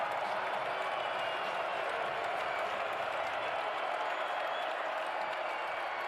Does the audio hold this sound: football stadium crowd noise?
yes